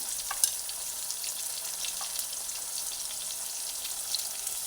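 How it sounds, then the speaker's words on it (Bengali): Teasel gourd pieces frying in a pan with turmeric and salt, a steady broad sizzle with a few faint stirring clicks throughout, no voices. "একই রকমভাবে হলুদ আর নুন পরে দিয়ে কাঁকড়গুলোকে ভেজে নেব"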